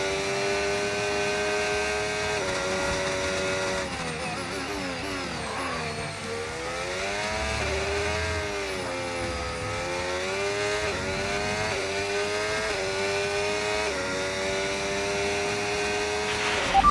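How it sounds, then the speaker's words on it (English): F1 race car engine in the video game F1 25, a high-pitched whining drone that climbs and drops in pitch through gear changes, steady and fairly quiet throughout. "I'm gonna have to increase a bit the car sound because it's a little bit too low"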